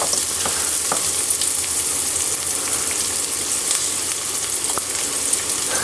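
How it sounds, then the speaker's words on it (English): Onions frying and browning in a pan, a loud, even, continuous sizzle like light rain, with a few faint clicks scattered through and no voices. "The edges of the onions are kind of getting brown."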